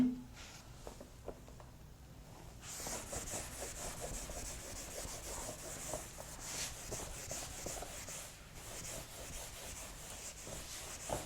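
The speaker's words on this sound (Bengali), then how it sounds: "চলো তাহলে এটা মুছে দিচ্ছি।" Faint rhythmic rubbing strokes of a board eraser wiping writing off a classroom board, quick back-and-forth swipes repeating steadily after a quiet start.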